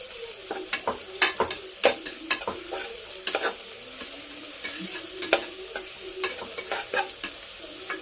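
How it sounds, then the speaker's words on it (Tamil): Onions sautéing with ginger paste and tomatoes in a pan: a steady close sizzle broken by frequent sharp scrapes and clacks of the spatula, irregular and lively, with no voices. "இப்போது இஞ்சி பேஸ்ட்டு சேர்த்தோம்னா நல்லா வதக்கிக்கலாம்"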